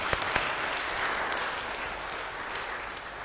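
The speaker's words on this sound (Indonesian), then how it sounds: "Saudara, kita kasih tepuk tangan." A church congregation at a Trinity Sunday service gives a round of applause, a soft, steady wash of clapping heard from a distance with a few sharper claps near the start.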